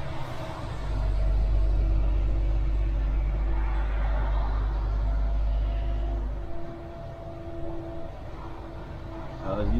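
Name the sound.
car driving out of Reims city centre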